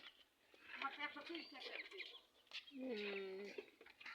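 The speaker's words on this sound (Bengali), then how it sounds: "এই যে মুরগি" Short clucking and chirpy calls from a nearby laying hen, with a sustained higher squawk toward the end; a few irregular bursts over about four seconds.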